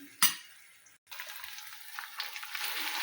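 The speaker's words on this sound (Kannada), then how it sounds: "ಈಗ ಹಸಿಮೆಣ್ಸಿನ್ಕಾಯಿ ಹಾಕ್ತೀನಿ ನೋಡಿರಿ. ಹಸಿಮೆಣ್ಸಿನ್ಕಾಯಿ ಹಾಕ್ತಾಯಿದ್ದೀನಿ ರೀ." Green chillies drop into hot oil with curry leaves for a vegetable stir-fry. A sharp clatter is followed by a moment of quiet, then a steady close sizzle that builds and crackles.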